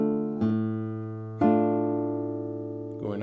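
Classical guitar playing a Sagreras lesson 59 exercise: three ringing plucked notes sounded together as a chord, struck three times with long sustaining decay between strikes, close and clear with no talking.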